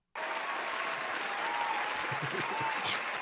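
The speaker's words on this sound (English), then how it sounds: "I give you applause" Sustained applause from a crowd at a wrestling event, steady loud clapping filling the whole stretch, with a few voices blending into the noise.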